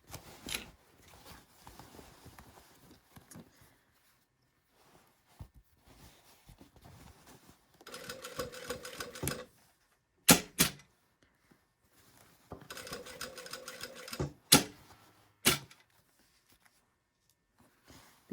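A home sewing machine stitches a sleeve seam over pins, running in two short bursts of rapid, rhythmic needle chatter. Quiet fabric handling and a few sharp clicks fill the pauses between runs.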